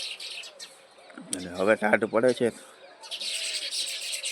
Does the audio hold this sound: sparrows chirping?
yes